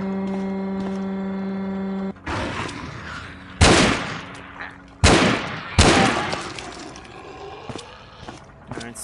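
Gunfire in the zombie video game Dead Epidemic: three loud, sharp gunshots spaced about a second or more apart, each with a ringing tail, following a steady electronic hum that cuts off abruptly.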